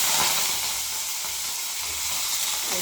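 Steady, loud sizzling of cabbage, curry leaves, cumin and turmeric frying in hot oil for sambar, a continuous crackling hiss with no voices.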